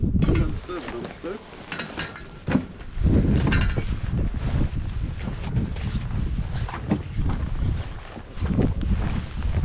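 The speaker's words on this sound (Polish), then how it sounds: "Ja puszczę motor." A boat motor runs with a low, uneven churn amid wind and water noise at Bembridge, while people talk nearby now and then.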